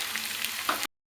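Tempering seeds and garlic fry in hot oil for a dry mango pickle, a steady close hiss and crackle lasting under a second before cutting off abruptly.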